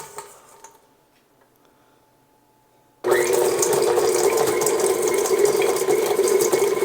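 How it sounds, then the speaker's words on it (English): A KitchenAid stand mixer churning ice cream switches on after about three seconds of near silence, then holds a loud, steady whirring drone with a rattling, grinding texture to the end. "you lock this KitchenAid. And now you just turn it on."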